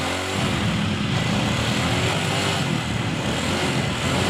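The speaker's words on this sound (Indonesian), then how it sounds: "Nah, sepeda motornya sudah hidup kembali dan cara ini berhasil ya sobat." Small motorcycle engine running again after a regulator-rectifier repair, a steady close idle rumble that holds evenly throughout, with no talk.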